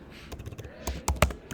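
Fingers type on a computer keyboard in short uneven bursts of crisp clicks, close and fairly loud, with several firmer key strikes near the end.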